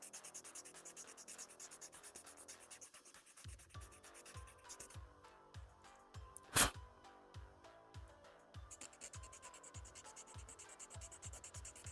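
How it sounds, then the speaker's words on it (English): Steady rhythmic rasping strokes of a file on a small hard plastic Gundam model kit part, back and forth, close up, with one sharp louder scrape midway. "Now, we'll flatten all of this down better with the"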